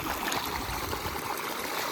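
Water gushes from a running farm tube-well motor pump as a steady, dense, close rushing wash with no break and no talk.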